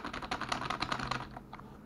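Typing on a Redragon Karura K502 gaming keyboard, a quick run of close, quiet key clicks and taps in an uneven rhythm that thins out toward the end.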